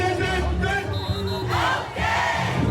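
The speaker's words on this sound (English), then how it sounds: "Those die-hard fans who had been waiting for hours began to shout and cheer" A crowd of die-hard football fans shouting and cheering as their team runs out under a banner, a loud, dense roar of many voices with brief dips and swells.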